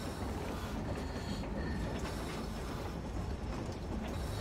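A train rolls past in the video game Metro Exodus, a steady, dense low rumble with faint metallic clatter that holds at an even loudness throughout, with no voices.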